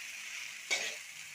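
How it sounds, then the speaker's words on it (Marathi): A spoon stirs phodnichi khichdi, tempered rice and lentils, in a hot pan at home, giving a steady soft sizzle with one louder scraping burst partway through; no voices. "मग आता हे चांगलं एकजीव करून घेते मस्तपैकी"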